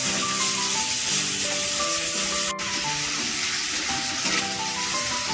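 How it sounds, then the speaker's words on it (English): Chopped onion sizzles steadily in a hot pan on the way to a crab curry, a dense continuous crackle and hiss held close with no talk over it. "So I've been frying this onion just for a minute."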